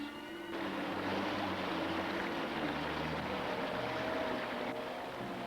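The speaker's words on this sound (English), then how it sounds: "Ships could not navigate these swift rapids." Lachine Rapids on the Saint Lawrence River, a steady broad rushing roar of swift water, continuous and even with no voices.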